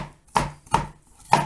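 Three sharp knife chops on an onion against a board, evenly spaced about every half second, close and crisp with quiet gaps between, no talking.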